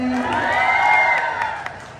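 An audience at a pageant cheers, whoops and applauds in a loud burst that tapers off over a couple of seconds.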